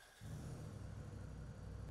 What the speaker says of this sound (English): start the engine and allow it to idle for 30 seconds